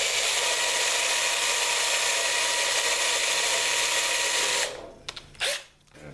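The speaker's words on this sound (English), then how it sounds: "we're going to drill this pilot hole." A drill bores a pilot hole into a rusty metal core radiator support, giving a loud, steady whirring grind for about four and a half seconds before it cuts off, followed by a few brief clanks and a short burst of noise.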